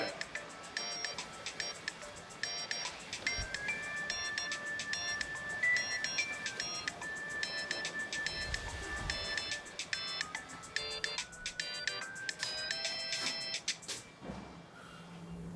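A phone rings in a repeating electronic pattern of bright tones, steady and fairly loud over faint room noise, stopping near the end.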